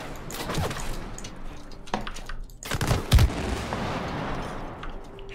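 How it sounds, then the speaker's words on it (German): Gunfire in the co-op video game It Takes Two, a mix of sharp shots and heavier booming blasts over a dense, rumbling game soundscape, with little talk. "Jetzt kannst du schießen."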